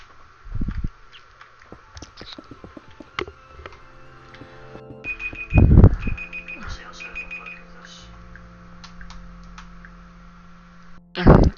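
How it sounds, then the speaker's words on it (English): Timer going off indoors, a short repeating electronic beep pattern heard between soft clicks and a few louder knocks, fairly faint and close. "And the timer went off."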